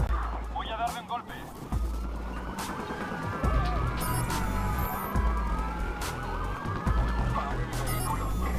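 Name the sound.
police car siren in video game Watch Dogs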